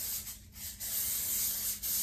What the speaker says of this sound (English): I'm gonna go ahead and spray this one. Just get it coated